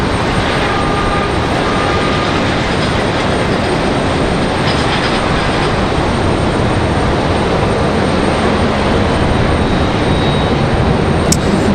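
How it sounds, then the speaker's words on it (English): A Southwest airliner just after touchdown at Raleigh Durham airport, a loud, steady roar of engines and rushing rollout noise filling the whole stretch with no speech. "Southwest coming in from Tampa. Nice touchdown for Southwest."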